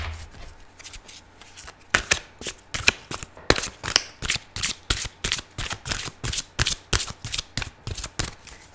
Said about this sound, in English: I'd rather take my time with the cards and have the perfect card fall out than shuffle really fast.